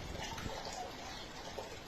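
Floodwater swirls through the inside of a flooded house, giving a steady, close rushing wash with no break.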